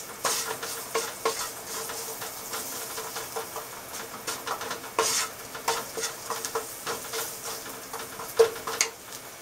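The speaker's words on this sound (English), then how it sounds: "Roast this one about 5 minutes until they're brown" Chopped kale roasting and being stirred in a hot pan, a steady soft sizzle broken by scraping stir strokes and light pan clatter, close and without talk.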